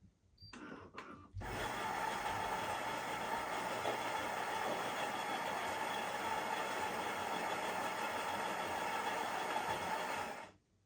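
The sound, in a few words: Philips 5500 coffee machine grinder grinding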